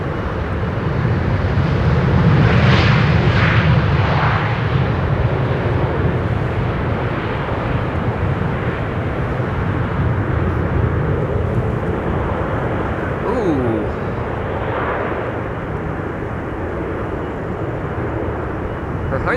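An Airbus A321 airliner arriving on runway 27, the Buitenveldertbaan at Amsterdam Schiphol, gives a loud, sustained broadband engine roar that stays steady and heavy throughout, with faint voices underneath.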